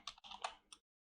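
Hashtags are typed on a computer keyboard, a short quiet burst of a few clicky keystrokes close by, ending abruptly in silence.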